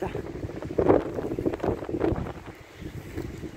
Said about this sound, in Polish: A wietrzycho dzisiaj niezłe.